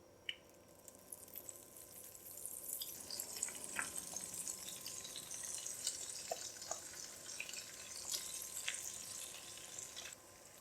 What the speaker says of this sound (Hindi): घी मेल्ट हो गया। अब पिसी हुई दाल हम इसमें डाल देंगे।